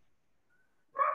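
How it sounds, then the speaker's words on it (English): Dogs bark in a short, muffled burst heard at the end, distant and picked up faintly through someone's open microphone on a video call. "Somebody's got a mic on that we hear dogs barking."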